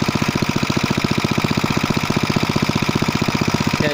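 A freshly rebuilt Briggs & Stratton small engine runs on half choke, putting out a steady, fast, even chugging pulse at close range with no voices.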